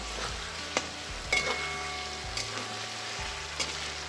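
Boiled eggs, slit open, go into a pan of sizzling chana dal masala, with steady frying crackle, stirring, and a few sharp utensil knocks throughout.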